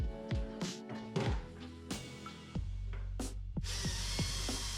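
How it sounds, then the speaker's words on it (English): Short bursts of an impact driver whirring and clattering as it drives a screw into wood, several brief stops and starts, then a sustained rattling buzz near the end, close by. "I'm only allowing one ka-chug on my impact driver so I don't strip the hole."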